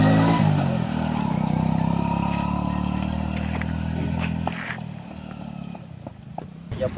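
A motorbike engine running and pulling away, loud and steady at first, then fading and thinning out over several seconds, with clatter and small bumps near the end.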